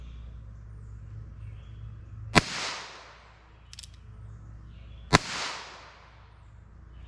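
Two sharp gunshots from a .22 LR revolver with a 4 3/4 inch barrel firing 60-grain Aguila subsonic rounds outdoors, each a crisp crack with a short echoing tail, spaced about three seconds apart, no talking.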